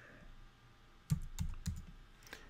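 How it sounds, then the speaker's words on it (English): Several keystrokes on a computer keyboard, a few close, fairly crisp clicks in an irregular cluster over a quiet room background. "I can even type in a precise interest like entrepreneur,"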